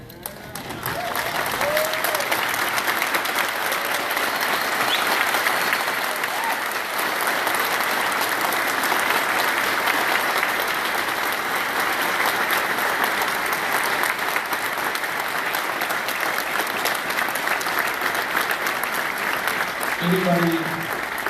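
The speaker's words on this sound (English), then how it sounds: "give a round of applause" A large crowd applauds steadily and loudly for about twenty seconds, dense clapping sustained without a break.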